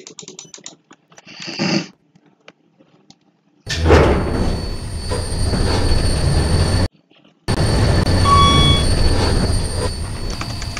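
A KONE EcoDisc KSS 280 elevator motor in a Roblox mall game runs with a steady loud mechanical drone and a thin high whine, after a few seconds of scattered clicks and keyboard-like taps, broken by one short gap.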